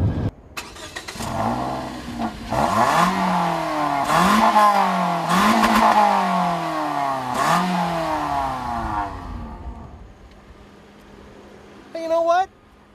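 A 2014 Toyota Corolla engine starts and is revved in several sharp, repeated bursts that rise and fall, loud and close, settling to idle before a final short blip.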